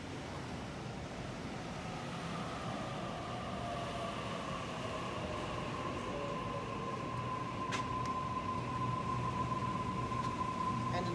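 A Sydney Trains Waratah passenger train passes West Ryde station, a steady rolling rumble with a long tonal whine running through it and brief sharp squeals late on, close and sustained throughout.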